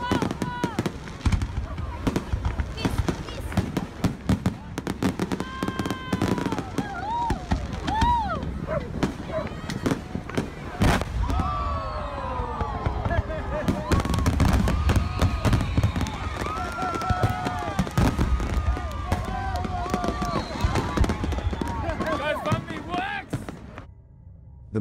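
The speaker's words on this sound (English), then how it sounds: "The show commenced flawlessly, with fireworks soaring into the night sky to the delight of the spectators." Fireworks burst over a beach show launched from a barge, a long run of sharp bangs, crackles and whistling rockets, loud and irregular, with crowd voices and talk mixed through the explosions.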